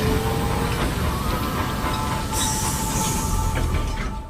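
A train rolls along in a video game trailer, a dense continuous rumble with faint metallic rail tones and a hiss rising partway through, loud and steady with no talking.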